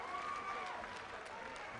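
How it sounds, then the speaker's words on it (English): A boxing arena crowd roars and applauds in a sustained, dense wash of cheering and clapping from many spectators, steady throughout with no single voice standing out. "that's the biggest cheer of the night"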